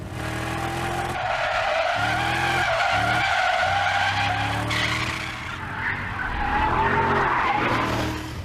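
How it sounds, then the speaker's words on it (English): A BMW E39 M5 slides sideways through a corner on a race track, its tyres squealing loudly and continuously over the steady roar of the engine. "And you still go sideways in the BMW, but now you've at least got both rear wheels driving you forward."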